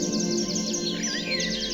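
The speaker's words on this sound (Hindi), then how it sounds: "एक दूसरे को बुलाते पंछी" Forest birds call back and forth in quick, bright chirps and short trills, layered over one another at moderate distance, with no talking.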